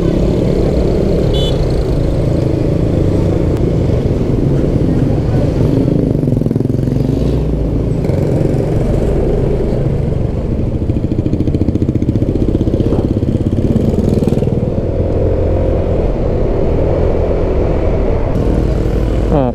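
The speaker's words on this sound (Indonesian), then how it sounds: "Medan sudah makin macet" Heavy, congested street traffic in Medan, Indonesia, with cars, motorcycles and angkot minibuses making a continuous loud rumble of engines close by, with occasional clatter and passing vehicles and no talking.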